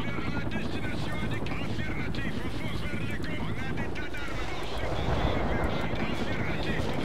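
Helicopters in the World in Conflict video game give a steady, loud rotor and engine roar that fills the whole stretch without pause, with other battle noise and faint voices mixed in.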